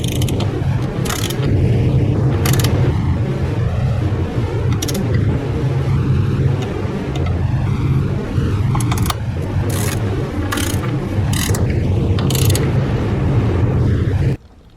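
A torque wrench tightens ignition coil bolts on a 2018+ Buick Enclave, giving sharp, close mechanical clicks and ratcheting over a steady low hum throughout.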